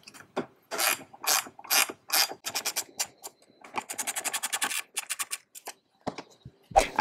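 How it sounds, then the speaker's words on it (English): An 11 mm open-end wrench tightens a nut during a Jeep interior mod, heard as close, dry clicking and scraping strokes in quick irregular bursts with short gaps between them. "Using an 11 millimeter open end wrench,"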